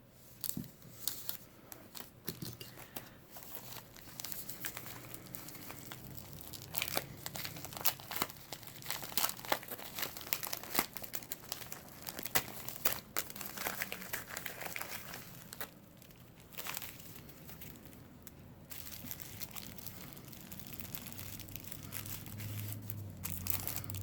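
Crinkly plastic packaging being unwrapped from AliExpress fountain pens, including a Jinhao 100 Centennial resin pen, with close, irregular rustling, crumpling and tearing that continues for the whole stretch, fairly quiet and without talk.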